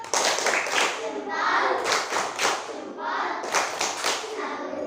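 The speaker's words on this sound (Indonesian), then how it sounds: "tepuk salut" Group of students in a classroom performing a 'tepuk salut' clap chant, rhythmic clapping in repeated bursts mixed with chanting voices, moderately close.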